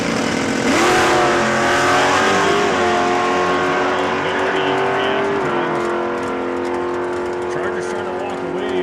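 A 1964 Plymouth Belvedere and a 1968 Dodge Charger tear down the drag strip side by side, their engines loud and sustained at high revs, with a commentator talking over the roar.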